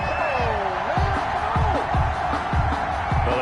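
Stadium crowd in the Madden 21 football video game reacting to a penalty flag on third down, a sustained roar with rising whoops and jeers, loud and continuous from start to finish.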